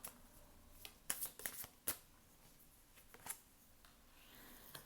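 Oracle cards shuffled and drawn at a quiet table: soft papery riffles and brisk flicks, with several sharp slaps clustered near the start and a few lighter flicks later, all alone without talk.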